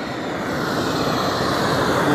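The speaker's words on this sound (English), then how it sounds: "Primus Himalaya Very Fuel, white gas in it today. It's loud." A Primus Himalaya multi-fuel camp stove burning white gas gives a loud, steady, close roar throughout, heard alone without talking.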